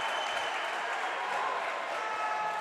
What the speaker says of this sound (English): They have electrified the crowd at Fred DeLay